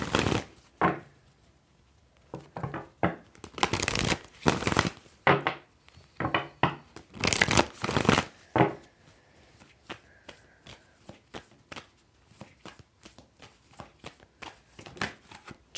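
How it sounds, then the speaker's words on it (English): Tarot cards are shuffled in repeated bursts of riffling and slapping, loud and close, with quieter shuffling taps between. "This needs to be shuffled."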